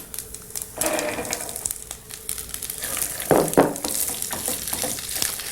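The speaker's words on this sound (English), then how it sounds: "You should saute your green beans for about 5 to 7 minutes." Green beans sauté in ginger-flavoured butter oil with julienned ginger, a moderate close sizzle broken by stirring clatter and a few louder bursts, with no talking.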